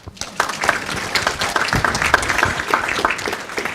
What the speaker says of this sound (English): round of applause for Elizabeth.